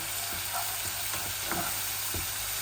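Onion and garlic frying for dal in a pan, a steady dense sizzle with a few soft stirring knocks, close and continuous, with no voices.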